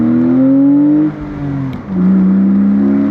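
A BMW Z4 E85 roars up through its revs accelerating out of a corner on the wet Stelvio Pass with traction control off, pitch climbing, briefly dipping at a shift, then rising again, loud and close.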